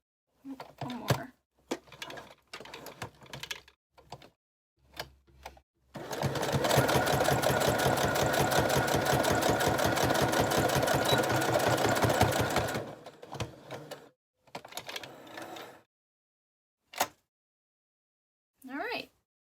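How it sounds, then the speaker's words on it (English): A sewing machine stitches around a paper paperclip embellishment made from magazine scraps, running in one loud continuous burst of about six seconds between brief handling clicks and a few spoken words. "Just got a little sewing around the outside."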